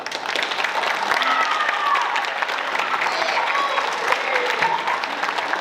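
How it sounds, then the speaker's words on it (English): Audience applause at an IRS NELMS banner presentation ceremony, steady dense clapping from a crowd sustained throughout, with faint voices mixed underneath. "you guys deserve a round of applause as well"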